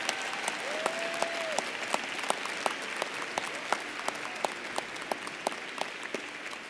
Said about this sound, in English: A round of applause for all of our doctoral graduates.